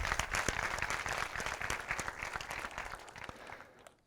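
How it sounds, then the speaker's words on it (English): Audience applause at a Vue.js developer conference talk fills a hall with steady, dense clapping for about four seconds before fading out at the end. "So please give them an applause."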